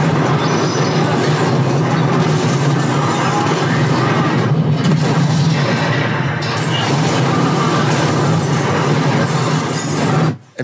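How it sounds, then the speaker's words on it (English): Explosions from the war film U-571 play through a home theater as a dense, loud, rumbling roar with rattling debris, sustained throughout before cutting off at the end. "how some of those explosions are on the left, a little bit to the right"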